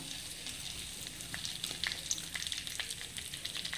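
Bay leaves and dried chillies sizzle in hot oil for a potol curry, with a quiet, crackling fry and scattered small pops and spits.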